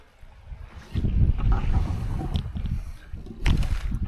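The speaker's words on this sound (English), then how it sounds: "So there's just a little bit of wind tonight." Wind on the Durham Heritage Coast at a wild camp, blowing in gusty low rumbling surges across the microphone, with quieter lulls between stronger blasts.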